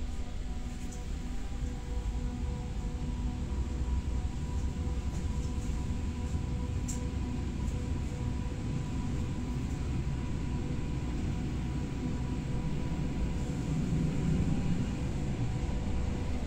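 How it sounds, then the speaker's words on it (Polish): A passenger train heads toward Tłuszcz, Poland, heard from onboard as it departs: a steady, even low rumble with hiss that fills the whole stretch without a break. "Dobra, pociąg już ruszył."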